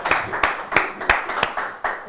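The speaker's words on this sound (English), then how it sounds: "Give a round of applause." An audience applauding after a guacamole-tasting challenge, with close, uneven bursts of hand claps in a loose rhythm of a few beats each second and no talk over them.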